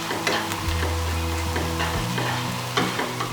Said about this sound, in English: Once I've rinsed my lentils, I'm just going to add those into the pan.